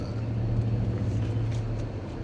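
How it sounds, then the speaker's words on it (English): Road traffic passing on a busy street, a steady low engine rumble and tire hum that stays even and fairly loud for the whole stretch, with no voices. "All this traffic."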